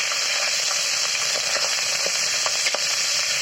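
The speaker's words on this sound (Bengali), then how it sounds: "তেলটা দিয়ে এরপর আমি মাছগুলো ছেড়ে দিচ্ছি।" Fish sizzle in hot oil in a smoking-hot wok over a stove, a loud, steady crackling fry with sharp pops scattered throughout.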